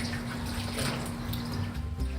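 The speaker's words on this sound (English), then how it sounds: "Catalina washes the cactus with soap and water" Running water and soapy washing over a cactus paddle, a continuous soft hiss and splash with occasional drips, fairly quiet and close.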